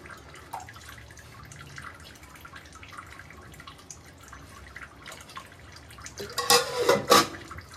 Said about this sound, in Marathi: तर मग त्यात पाणी टाकूया शिजण्यासाठी